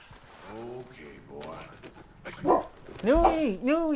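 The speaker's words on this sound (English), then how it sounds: "Dogs!" Dogs in the video game Red Dead Redemption 2 bark and yelp, a few sharp, loud barks clustering near the end, mixed with talking.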